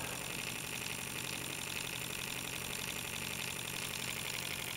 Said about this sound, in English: This is my first steam engine, a serious steam engine that I have built.